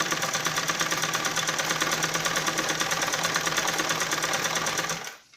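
A sewing machine stitches along the knee seam of a balloon salwar, running in a fast, even mechanical whir for about five seconds before winding down and stopping.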